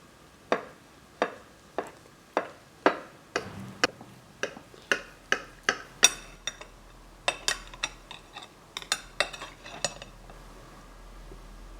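A baked summer berry pie cut in its baking tin: a series of sharp, close metallic ticks and clinks as the knife strikes the tin, evenly spaced at first, then quicker and clustered, with no talking.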